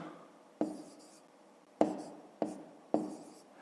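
Numbers written by hand for a fifth-grade maths exercise: four separate pen or chalk strokes land at uneven intervals, each a sharp scratchy onset that fades quickly, close and fairly quiet, with no talk.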